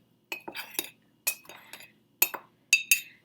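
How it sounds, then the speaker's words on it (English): A spoon clinks against a mug while stirring dry mug cake ingredients for a gluten-free vegan recipe, giving several sharp scraping taps in uneven bursts, close and fairly loud. "grab yourself a spoon or a fork, and you're just going to stir it all together"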